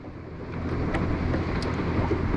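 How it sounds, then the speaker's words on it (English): A motorboat passing on Lake Talquin, heard as a steady, broad low rumble of engine and water wash with some wind noise, holding fairly constant throughout. "Got a boat coming through."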